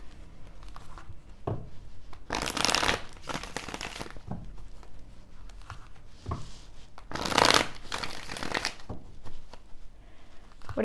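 Tarot cards being shuffled by hand during a reading: two loud riffling bursts stand out against quieter handling and soft card slides throughout.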